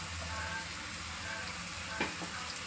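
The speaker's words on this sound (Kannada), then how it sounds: "ಅವನ್ನ ಗೋಲ್ಡನ್ ಕಲರ್ ಬರೋ ತನಕ ಚಿಂದ ಕಲರ್ ಬರೋ ಗಂಟ ಚೆನ್ನಾಗಿ ಫ್ರೈ ಮಾಡ್ಕೊಳ್ಬೇಕು" Chopped green chillies frying on a low flame in a pan: a steady, close sizzle that runs the whole time, with a brief stir or clink partway through and no talking.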